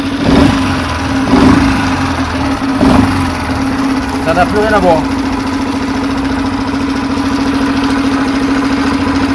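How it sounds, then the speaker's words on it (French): A Yamaha 2.5 hp four-stroke outboard motor idles with a steady, loud, throbbing drone close by, while someone talks briefly over it. "Et là ça démarre super, le ralenti il est parfait."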